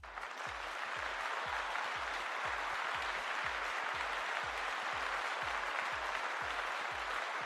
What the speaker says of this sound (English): Let's give Valentine a round of applause.